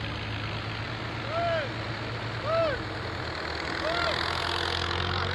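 A tractor engine runs outdoors with a low, continuous idling rumble, while a few brief high voice-like calls rise over it.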